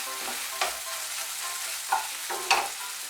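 Bitter gourd cooking in a pan with mustard and poppy seed paste, stirred with a steady soft sizzle under three sharper scraping strokes of the spoon.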